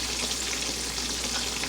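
Steady, dense sizzling and crackling of chicken frying in hot oil, continuous and close with no voices.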